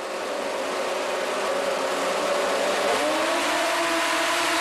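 Several 600cc snowmobiles accelerate hard off the start of an ice oval race, a loud continuous high-revving engine roar with rising pitch as they pull away, filling the whole moment without talk.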